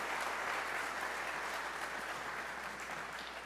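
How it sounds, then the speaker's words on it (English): Congregation applauds the worship team at a morning church service, a steady, even wash of many hands clapping that fades slightly toward the end. "Can we give another round of applause for leading us in worship this morning?"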